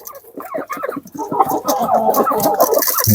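Many young black chicks cheep close by, a busy overlapping chorus of short calls that grows louder and denser toward the end.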